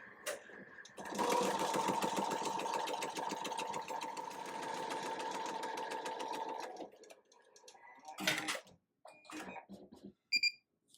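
An embroidery machine stitches a shirt with a fast, steady mechanical whir and needle patter for several seconds, then stops, followed by a few short clicks and knocks.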